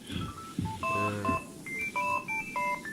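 A telephone keypad sounds a run of clear dialing tones, short steady beeps in quick irregular succession, close and fairly quiet over faint background noise.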